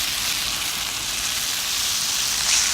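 Chicken thigh fillets sear in hot oil in a pan for paella, giving a steady, loud, close sizzle that carries on unbroken with no talk.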